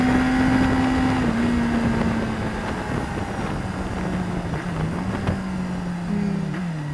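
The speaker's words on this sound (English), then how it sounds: "Marshall on a CBR 1000RR M Sport 1000R, got wings and everything." Honda CBR1000RR racing around the Mallory Park circuit, a loud continuous engine drone with steady pitch that dips and rises through gear changes, heavy wind rush over the mic.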